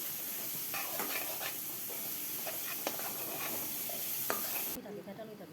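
Poppy seed paste sautéing in a pan for dahi rui, a Bengali rohu fish curry, with steady sizzling and a few sharp spoon scrapes against the pan throughout, cut off abruptly near the end.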